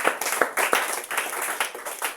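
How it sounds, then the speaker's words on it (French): A church congregation applauding in praise of the king, dense close clapping from many hands in a quick steady burst. "Acclame pour le roi."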